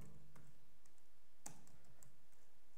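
Someone types HTML and CSS code on a computer keyboard, producing a few sparse, faint key clicks in a quiet room with no talking.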